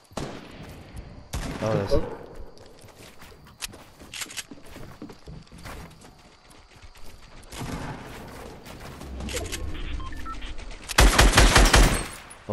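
Bursts of rapid automatic gunfire and single shots in a Fortnite duo match crackle in clusters, loudest at the start and near the end, with footsteps between and a brief spoken remark.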